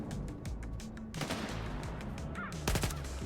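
Machine gun fire in a video game rattles steadily through the whole stretch as quick repeated shots over dense background noise. A louder burst comes near the end.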